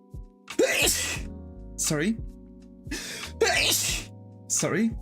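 A single sharp sneeze bursts out during a casual drawing session, followed by a person talking briefly.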